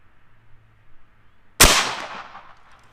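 A single loud, sharp crack from a Dragon Claw PCP air rifle, close by, with a ringing decay trailing off after a quiet stretch.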